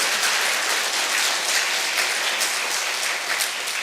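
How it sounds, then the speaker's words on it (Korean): A church congregation applauding during a Korean service, sustained crowd clapping that fills the space evenly and continues without a break throughout. "한번 박수 한번 하실랍니까?"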